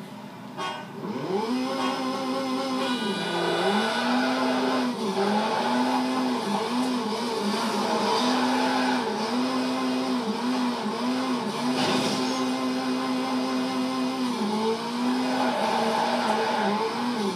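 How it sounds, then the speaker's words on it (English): Race car engine in Need for Speed Shift 2: Unleashed droning loudly and continuously for about seventeen seconds, its pitch wavering with throttle changes and tire squeal, with no crash impacts standing out. "now I'm going to show you how to completely demolish your car in 5 seconds"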